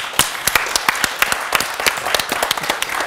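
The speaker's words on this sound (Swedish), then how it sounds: "Stort tack och en stor applåd." Audience applause closing a Swedish conference session on cooperation in health and social care, with individual claps clearly audible in a steady, moderately dense patter for about three seconds.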